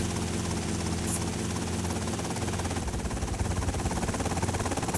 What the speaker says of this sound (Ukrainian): Вертоліт.